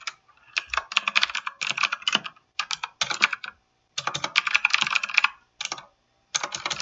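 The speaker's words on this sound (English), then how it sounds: "If I type the name of the person and what is my wish list" Fingers type on a computer keyboard, filling in a form with rapid, close clicking bursts separated by brief pauses.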